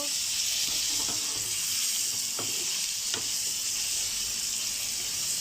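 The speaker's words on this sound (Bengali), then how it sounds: "এখন চিংড়ি মাছটা দিয়ে দিলাম। একটু ভাজা ভাজা হইলে" Steady oily sizzle of large prawns frying, a continuous bright hiss with a few soft clicks and taps from stirring, close and fairly loud, no talking.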